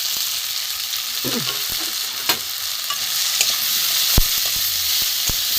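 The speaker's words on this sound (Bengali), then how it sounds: "একটু ভাজা হোক সবজিটা, তারপরে আলুটা একটু ভেজে নিলাম।" Vegetables and potato fry with turmeric, chilli powder, salt, cumin, coriander and ginger paste in a pan, a continuous loud sizzle broken by scraping stirs and occasional knocks of the spatula.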